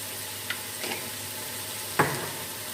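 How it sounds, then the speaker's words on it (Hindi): Meat and spices fry in a pot for pilau, giving a soft, steady sizzle with a few brief clinks and scrapes of stirring over a quiet background. "गोश्त में अच्छी तरह से हम मसालों को भून लेते हैं।"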